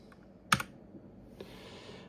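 Keys pressed on a computer keyboard in a broadcast setup, a sharp double click followed by a fainter tap, close and quiet with no talk.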